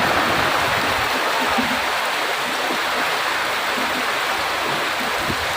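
Steady floodwater from the Gurupura river in Mangaluru, swollen by heavy rain and dam releases, rushes loudly and continuously, a dense broadband roar with no voices.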